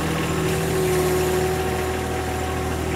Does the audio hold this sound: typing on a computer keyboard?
no